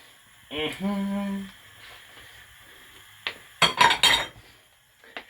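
Chopped beetroot pieces for borscht go into a cooking pot, with a brief tonal ring early on and then a cluster of close metallic clunks and clinks against the pot in a quiet kitchen.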